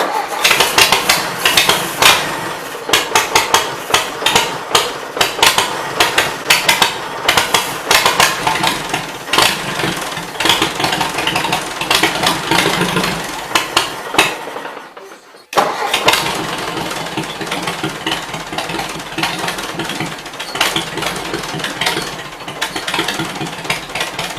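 A Ford 800 tractor engine with ignition trouble cranks and starts, then runs loud and close with an uneven, rough beat. It cuts out briefly around the middle and picks up again.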